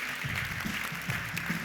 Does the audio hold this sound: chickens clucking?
no